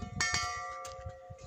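Resonant metallic church bell strikes ring out twice in quick succession, followed by a long sustained hum and a fainter later stroke, moderately loud and close.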